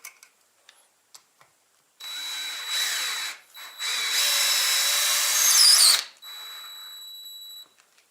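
A cordless power screwdriver whirs up in bursts, then runs long and strained as it drives a self-tapping screw into an aerated concrete block, loud and close, with a few light clicks before and after.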